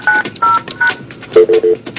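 Touch-tone telephone keypad dialing tones entering a cell phone number, a quick run of short, clear beeps in a steady rhythm, loud and alone.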